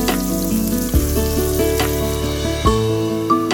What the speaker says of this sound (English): Using the same wok, I'm sautéing minced garlic and ginger.